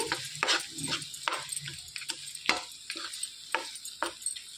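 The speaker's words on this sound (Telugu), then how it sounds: "ఆ నూనె వేడికి కాస్త వేయించుకోవాలండి" Amla coconut chutney tipped into hot oil and stirred off the heat, giving a soft sizzle broken by repeated sharp scraping strokes of a spoon against the pan, close and fairly quiet, with no talking.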